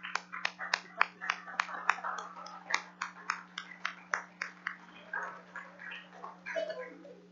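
Committee members clap together at the close of a 2019 budget meeting: a steady run of sharp, evenly spaced hand claps over a constant low hum, thinning out toward the end as a voice speaks.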